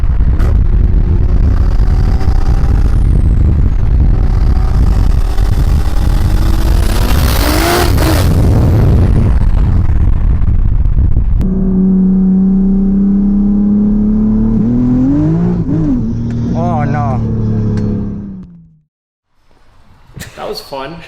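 A tuned big-turbo MK5 Toyota Supra making about 800 wheel horsepower pulls hard from 60 to 130, engine roaring loudly with rising revs and gear changes, then easing off and fading to near silence before a brief return of sound.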